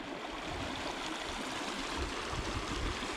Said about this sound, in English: There's this beautiful little stream here.